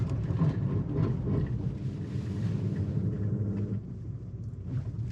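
A 2021 Ford Ranger Tremor with a 10-speed transmission crawls off-road in first gear in four-wheel-drive low, giving a steady, loud, low engine rumble that eases slightly toward the end.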